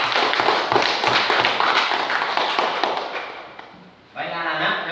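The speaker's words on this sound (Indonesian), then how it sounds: "Tepuk tangan untuk diri kita sendiri." A classroom full of people claps together in a dense burst of applause that fades, then a short second round of clapping begins.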